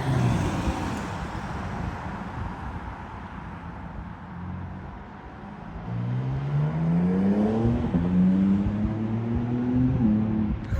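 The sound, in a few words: cars driving away at night in Munich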